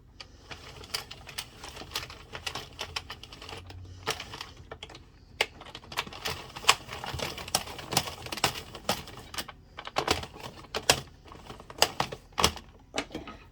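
An addi 22-pin knitting machine casting on with waste yarn gives irregular clicking and clacking from the hand crank, close and moderately loud, with rapid ticks in bursts and brief pauses.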